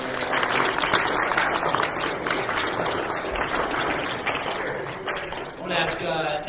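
Church congregation applauding mothers at a Sunday service: a full, continuous round of clapping with crowd murmur and some voices mixed in, loud throughout and easing slightly toward the end.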